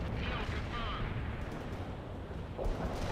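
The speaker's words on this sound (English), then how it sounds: "Heavy artillery barrage in this direction." Heavy artillery barrage in the strategy game World in Conflict, a dense continuous rumble of distant blasts with a heavier thump near the end, under faint game voices.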